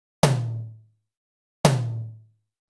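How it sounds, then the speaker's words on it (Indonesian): Two resonant middle tom drum hits, spaced about a second and a half apart, each ringing out briefly before decaying to silence. "Kemudian ketuk tom sebanyak 2 kali."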